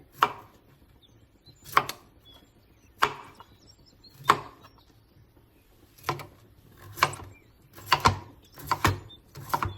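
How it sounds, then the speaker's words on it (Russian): A knife chops broccoli into florets on a cutting board, about nine sharp crunchy strokes, spaced irregularly and quickening toward the end, with no talking. "Нарезаем на соцветие."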